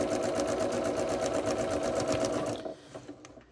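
A sewing machine runs a steady, fast reverse stitch on a shift dress with inseam pockets. The buzzing whir is close and continuous for about two and a half seconds, then stops abruptly.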